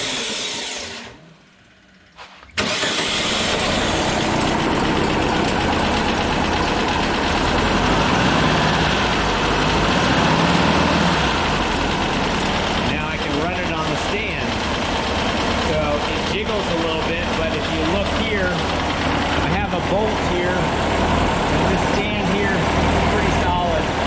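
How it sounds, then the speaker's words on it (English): A VW Split Bus engine mounted on a starter stand cranks and catches after a short quiet gap, then runs steadily and loudly at idle with a continuous mechanical drone and clatter for the rest of the clip. "Now I just hit the starter."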